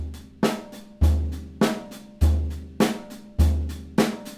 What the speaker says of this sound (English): we can think of our money beat, in rock and roll as being kind of the standard